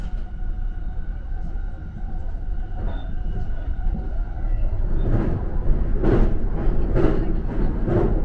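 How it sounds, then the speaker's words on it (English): Saphir Odoriko train crossing the Tama River bridge, a steady rumbling roll of wheels on rails heard from inside, growing louder with rhythmic clunks from the bridge joints in the second half. "The train is now crossing Tama River"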